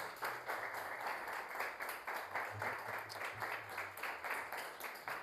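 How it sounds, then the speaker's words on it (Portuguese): Church congregation applauding at the close of a sermon, a fairly faint, steady patter of many hands clapping with a low hum beneath. "Aplaude o Senhor Jesus para nós finalizarmos."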